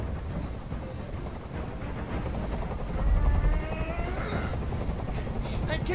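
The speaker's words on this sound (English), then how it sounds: "Tell that helicopter to get out of here." Helicopter in the video game Detroit: Become Human, a steady rotor thrum that swells midway, loud beneath a dramatic scene with a voice speaking over it.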